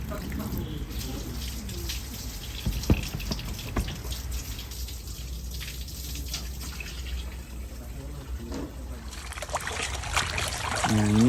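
Tap water runs steadily over a gutted gourami being rinsed after cleaning, a continuous close splashing trickle with faint voices and a louder surge near the end.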